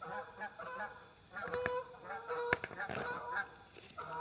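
Several geese honk in repeated bursts, loud and fairly close, with a few overlapping calls and a steady outdoor background between them.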